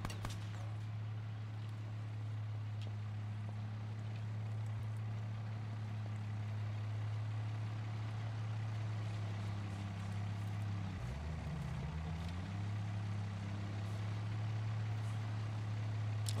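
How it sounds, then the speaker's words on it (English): Steady low engine drone of a vehicle in a first-person shooter game, continuous and fairly close throughout, with a brief dip and shift in pitch near the middle before it settles back to the same hum. "Oh shit, that's the vehicle."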